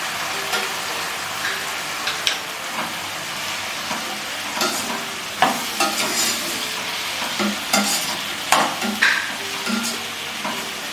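Onions, tomatoes and cashews fry in a pan for a paneer masala, with a steady sizzle and scattered clinks and scrapes of stirring throughout, close and moderately loud with no talking.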